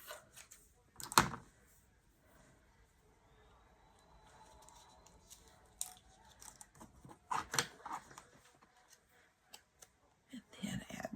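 Scissors snip through cheesecloth in a few sharp, close cuts spread across the stretch, mixed with quiet handling rustles and faint low voice sounds.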